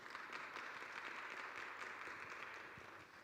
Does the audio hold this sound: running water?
no